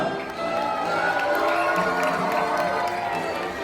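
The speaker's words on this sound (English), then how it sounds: "big round of applause is Princess Cinderella" A crowd on a Disney cruise cheering and shouting for Princess Cinderella, sustained lively noise with a little clapping and voices mixed in.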